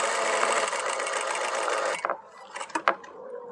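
A sewing machine stitches a readymade collar, sewing one seam to meet another. It runs with a steady, close whir for about two seconds, then stops, leaving a few soft clicks and handling knocks.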